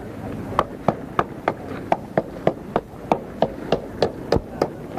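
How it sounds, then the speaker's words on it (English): Someone hammers nails into wooden pallets at a young farmer competition, a steady run of about fifteen sharp, evenly spaced blows heard at moderate distance over faint background crowd noise. "he's got his hammer and nails out with pallets"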